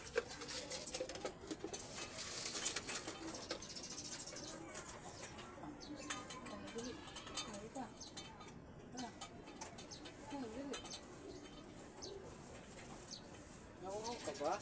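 Pigeons returned from a derby coo and flutter near the mic at feeding time, soft bird calls and pecking patter running throughout while a person talks over them.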